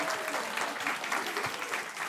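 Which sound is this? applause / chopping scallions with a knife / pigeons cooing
applause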